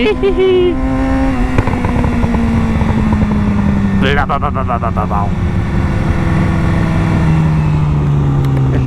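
Yamaha R6 motorcycle engine roaring steadily while being ridden through town, loud and close, its pitch slowly falling as it settles, with a brief burst of rising revs midway.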